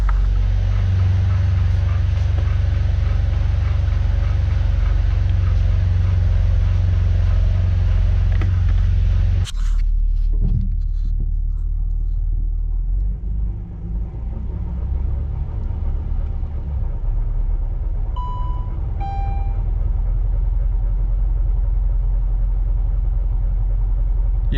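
A Saab 9-3 TurboX with a failing driveshaft rolling at about 20 mph, a steady low rumble of engine and road noise from inside the cabin that drops to a quieter drone partway through.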